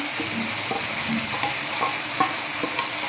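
Ground spice paste of coriander, cumin, ginger, garlic and dried and green chillies sizzles in hot oil with fried onions for a chicken curry, a steady frying hiss broken by soft scraping stirs, close and alone.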